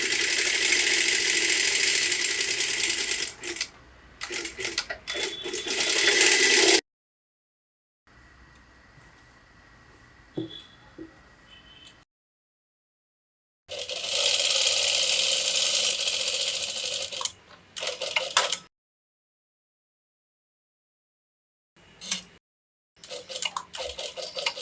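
A sewing machine stitching a blouse dart, loud bursts of fast mechanical whirring and clatter broken by silent gaps and a quieter handling stretch, close and with no talk.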